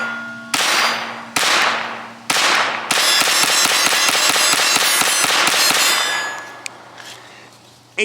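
A Sig Sauer P322 striker-fired .22 semi-automatic pistol fires on a range: three sharp single shots a second apart, then a rapid string of about twenty close, loud cracks emptying the magazine, followed by quiet.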